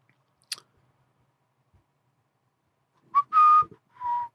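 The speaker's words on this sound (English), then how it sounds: "Sorry, I'm whistling. I shouldn't be doing that." A faint click, then after a quiet stretch a few short whistled notes close by, with no talking.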